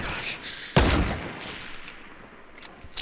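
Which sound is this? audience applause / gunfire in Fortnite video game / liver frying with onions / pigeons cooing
gunfire in Fortnite video game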